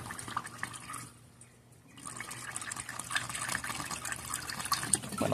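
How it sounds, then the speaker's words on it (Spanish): Antifreeze coolant pouring into the reservoir tank of a 2012 Dodge Journey 3.6, a steady close liquid splash and trickle that briefly drops away before resuming and running continuously. "Vamos a seguir llenando acá el tanque de anticongelante."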